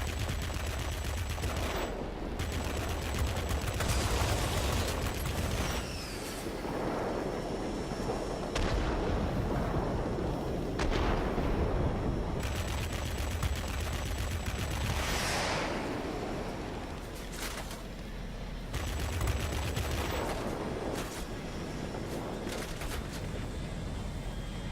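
Cannons on a Messerschmitt ME P 1101 jet fighter fire in World of Warplanes, a dense continuous roar of rapid booming shots over engine drone, sustained for long stretches with brief lulls and no voices.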